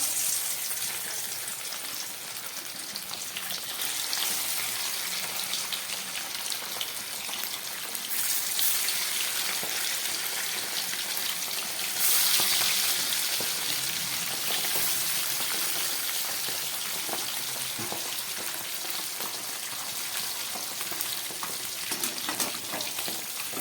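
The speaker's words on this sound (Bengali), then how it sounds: "কড়ার তেলটা একেবারে গরম হয়ে গেছে। এবার আমি এর মধ্যে দিয়ে দিচ্ছি মাছ।" Steady crackling sizzle of fish frying in hot mustard oil in a wok, a dense popping hiss that swells at moments and continues throughout.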